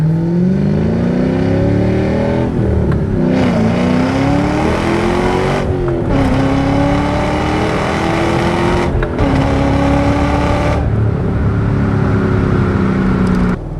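A supercharged 2006 Ford Mustang Saleen with a 4.6 engine accelerates hard, engine revving loud and close. Pitch climbs through repeated gear shifts with brief drops between pulls.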